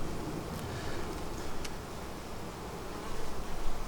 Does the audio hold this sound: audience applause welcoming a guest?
no